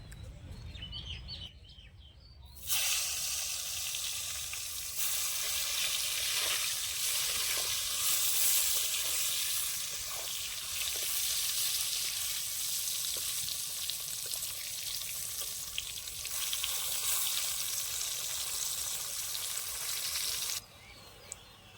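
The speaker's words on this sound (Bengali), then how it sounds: "এখন বেগুনটাও ভেজে নেব বেগুনটা নরম জিনিস তার জন্য আগেই ভেজে নেওয়া ভালো" Eggplant pieces fry in hot oil for Bengali shukto, a loud steady sizzle and crackle that starts abruptly and holds for most of the stretch before cutting off, with faint chirping in the background.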